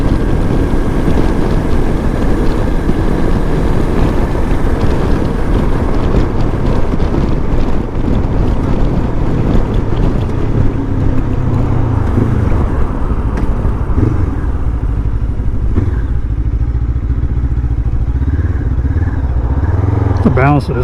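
A Lifan KPT 400 motorcycle fitted with a 43-tooth rear sprocket rides onto the interstate, its engine droning steadily beneath loud, buffeting wind roar for the whole stretch.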